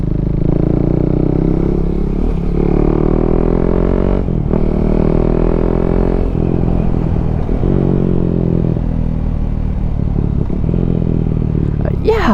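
A KTM 390 Duke motorcycle with a new chain and sprocket is ridden at speed, its engine droning loudly and steadily with shifting pitch during gear changes, under heavy wind rumble and a rider talking.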